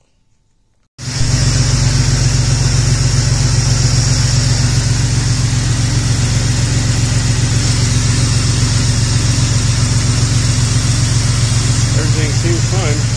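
A project car's engine fires up after about a second of silence, then settles into a steady, loud idle with a strong low rumble that holds without pause to the end.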